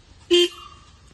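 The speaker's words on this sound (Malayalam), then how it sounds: "പിന്നെ ഇതാണ് ഇതിന്റെ ഹോൺ വരുന്നത്." A Hero XPulse motorcycle horn gives a single short, loud beep at close range, followed by a faint ringing tail.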